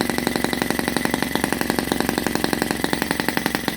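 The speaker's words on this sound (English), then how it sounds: "So this is the sound with the muffler on top." A tiny OKMO 1.6cc four-stroke gasoline engine runs with its muffler fitted, a loud, close, steady putter of rapid, even firing pulses with no voices.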